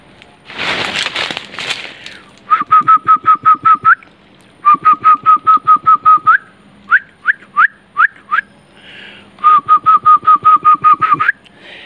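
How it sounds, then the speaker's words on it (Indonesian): Repeated human whistled code signals in a forest: bursts of short, rapid, evenly spaced whistle notes in runs of about eight, with brief pauses between, preceded by a rustling noise. "terdengar suara seperti itu, suara siulan seperti itu. Itu kode."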